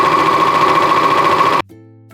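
A serger slowly stitching a dense rolled hem on silk chiffon, its steady close mechanical whir running loud and even for about a second and a half before stopping abruptly, with a faint hum after, no voices.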